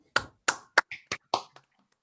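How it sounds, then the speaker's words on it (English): Participants in an online meeting give a sparse round of applause: about six separate, crisp claps in an irregular rhythm, close and clear against near silence. "give her another round of applause"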